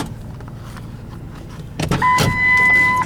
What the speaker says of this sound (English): I always like to put down the driver's window in any car that I get in with the keys in it.